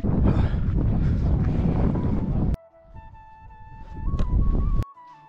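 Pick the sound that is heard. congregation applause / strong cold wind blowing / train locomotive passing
strong cold wind blowing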